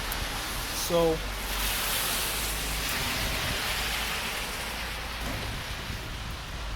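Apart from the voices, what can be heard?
heavy rain falling outside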